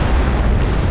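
A Stuka dive bomber strike in Company of Heroes 2 lands as a loud, dense explosion, a continuous heavy roar of blast and rumble filling the whole moment.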